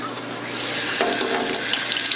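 An aquarium protein skimmer is rinsed under a running tap, a close, steady gush of water that swells to a fuller splash after about a second and continues to the end.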